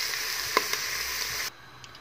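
Carrots and peas frying in a pot for a rice and chicken dish, a quiet steady sizzle with a couple of faint clicks from stirring, cutting off abruptly partway through to near silence.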